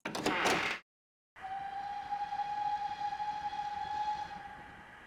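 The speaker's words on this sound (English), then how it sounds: "Is that a train?" Inside an abandoned station in a horror video game, a train approaches with a steady rumble, a rushing burst at the start, then a long sustained whistle tone that fades near the end.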